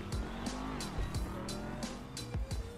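A car in GTA Online accelerates with turbo boost. Engine tones sweep up in repeated bursts, with tire squeal and short whooshes, loud and continuous over a few seconds.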